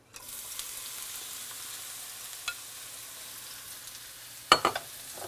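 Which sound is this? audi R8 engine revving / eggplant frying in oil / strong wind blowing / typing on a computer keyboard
eggplant frying in oil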